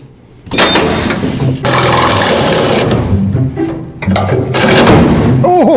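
A power drill bores through metal on a Jeep in tight quarters, sounding in long, loud, close grinding bursts that stop and start again, with brief pauses between runs.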